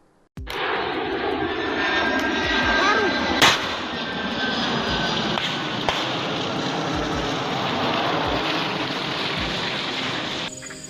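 A TNI military transport aircraft's engines drone loudly and steadily in a remote area of Yahukimo, with a sharp crack or two breaking through the continuous roar.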